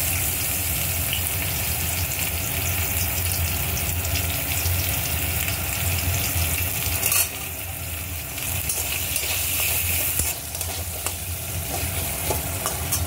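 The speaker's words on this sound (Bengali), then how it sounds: "পেঁয়াজটাকে অল্প ভেজে নেব।" Chopped onions added to already fried potatoes in a pan, with a loud, steady sizzle and occasional stirring and scraping, close up and continuous for the whole stretch, without speech.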